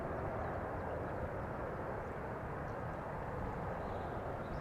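An older-style airplane engine roars continuously as the aircraft departs from runway 36L at Amsterdam Schiphol Airport, a dense broadband rumble heard from a distance, steady and loud with no voices.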